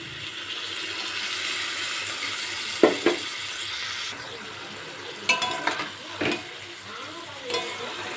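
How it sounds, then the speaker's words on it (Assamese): Frying food sizzles in a pan as a little water goes in, giving a steady hiss broken by a few sharp clinks of a utensil against metal. "এতিয়া ইয়াতে মই অলপমান পানী দি দিম।"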